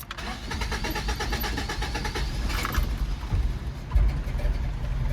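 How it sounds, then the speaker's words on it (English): A 1982 Toyota Pickup 4x4 SR5 engine cranks and turns over, a rough continuous mechanical churn close by with a brief rise near the end as it catches. "Let me start her up for you guys, just so you can hear that 22 RPM."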